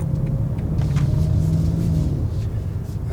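A 2024 BMW M4 Competition xDrive engine rumbles steadily and loudly throughout, with a faint rising whine of acceleration, heard from inside the car.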